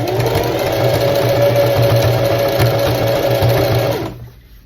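Sewing machine hemming trousers with an overlock presser foot, running loud and close in a steady, fast mechanical whir that drops off abruptly near the end.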